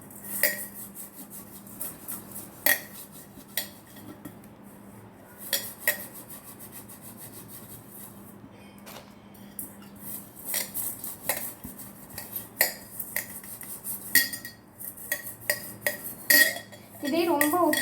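Rock salt scrubbed against a glass fish tank, giving gritty rubbing strokes and scattered clinks that come in irregular bursts, close up, with some faint handling noise between strokes.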